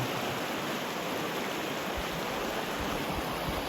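A creek flows right beside a backcountry campsite in Kings Canyon, a steady close rushing wash of water that fills the whole moment with no voices.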